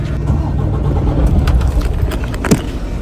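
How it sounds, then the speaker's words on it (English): A Freightliner semi truck's engine cranking and coming to life, a loud rough rumble with a sharp knock near the end, close by. "So now we have to turn the truck on."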